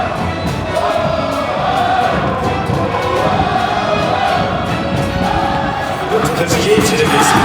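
A stadium crowd cheers and applauds as FC Anyang's football players walk onto the pitch, a dense continuous roar with whoops rising above it, while an announcer's voice booms over the noise.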